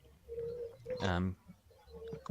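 A pigeon coos softly in the background, a few low, steady calls repeating with pauses over faint ambient noise.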